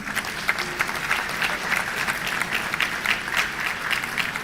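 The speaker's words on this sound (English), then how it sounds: "shall we please applaud the Omahene of Bompata" An audience at a university ceremony applauds an honoured guest, a traditional chief and ambassador, with continuous, full clapping that holds a steady level throughout.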